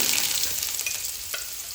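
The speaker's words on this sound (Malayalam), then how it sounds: "നമ്മൾ കാഷ്നട്ട് വറുത്തെടുത്ത എണ്ണയിലേക്ക് നമുക്ക് അരിഞ്ഞ് വെച്ച ചെറിയ ഉള്ളി" Chopped shallots crackle and sizzle steadily in hot oil already used for frying cashews, heard up close with soft stirring noises.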